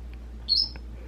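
A pet bird gives a single short, high chirp indoors, close and fairly clear over a low steady hum, with a faint click following.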